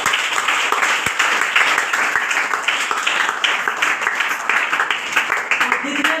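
Audience applause in a meeting session, a dense sustained wash of many hands clapping at steady loudness throughout.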